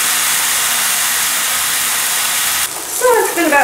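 Hamburgers frying on a Power Smokeless Grill give a loud, steady broadband sizzle and hiss that fills the scene, close up; near the end a voice speaks over the sizzle.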